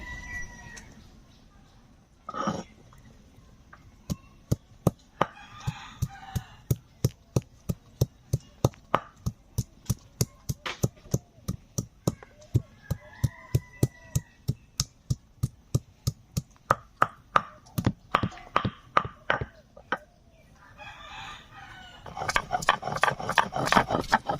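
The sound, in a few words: grinding spices on a grinding stone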